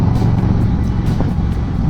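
2024 Harley-Davidson Low Rider motorcycle engine, a loud, close, low rumbling drone with a steady throbbing pulse, heard alone without speech.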